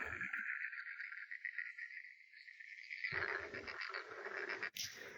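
Frogs calling across a large, mostly abandoned frog-farm field, a continuous dense chorus of croaking and trilling at a moderate distance, with a fuller burst of calls joining partway through.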